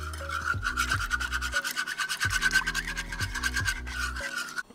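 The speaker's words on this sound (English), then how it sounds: "All right, we're gonna whisk this together." Balsamic glaze being whisked with kosher salt and black pepper, a close, rapid scratchy rhythm of whisk strokes that pauses briefly midway and then resumes, with a steady tonal hum underneath.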